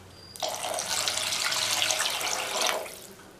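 Water pours steadily from a tap or jug for about two seconds, added to a tamarind brinjal gravy, a close, even splashing rush with no talk.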